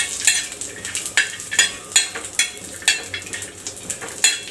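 Food dry-roasting in a pan until reddish in a home Maharashtrian kitchen, rhythmic scraping stirs roughly every half second over a soft sizzle, close and clear with no talking.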